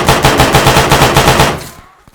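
Full-auto gunfire from a weapon in the Arma military video game, a loud rapid burst of evenly spaced shots lasting about a second and a half, then cutting off into a brief fading tail.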